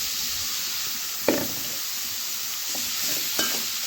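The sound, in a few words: snake gourd being stirred and sautéed in a pan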